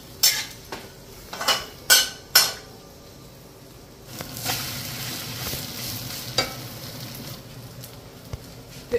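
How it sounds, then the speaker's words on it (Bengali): Bay leaf, nigella seeds and dried red chillies are dropped into hot oil for tempering. A few sharp utensil clinks and knocks come first, then a soft steady sizzle with occasional light scrapes, close by. "তেজপাতা, কালো জিরে আর দুটো শুকনো লঙ্কার ফোড়ন।"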